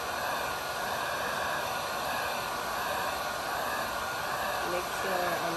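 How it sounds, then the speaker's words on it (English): A Wagner heat gun blows hot air over a hand-painted woodgrain tumbler, giving a steady, close, unbroken rushing hiss that holds level for the whole stretch with no talking. "Wagner heat gun."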